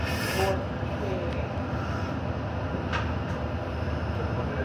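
Inside a Montreal REM light metro train waiting at a station, a steady low rumble and ventilation hum fill the car, with a faint higher hiss at the start and a few soft clicks.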